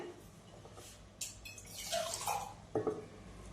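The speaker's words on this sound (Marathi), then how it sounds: "एक अर्धा तांब्या पाणी टाकते" Water is poured from a small vessel into a cooking pot of dal palak, heard as faint, uneven splashes and drips that build to a brief gush near the end.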